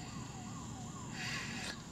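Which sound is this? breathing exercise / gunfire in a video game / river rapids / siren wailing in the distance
siren wailing in the distance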